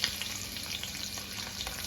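Garlic frying in hot oil in a wok with chillies makes a dense, continuous crackling sizzle, close and evenly loud throughout.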